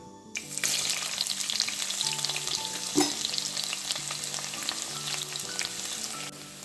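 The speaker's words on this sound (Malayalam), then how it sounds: "ഒരു പാനിലേക്ക് നമുക്ക് എണ്ണ ഒഴിച്ചിട്ട് സവാളയും പച്ചമുളകും എല്ലാം കൂടി വഴറ്റിയെടുക്കാം." Sliced onions and green chillies hit hot oil in a pan and fry with a sudden, loud, steady sizzle close up, broken by a stirring clack midway, with no voices.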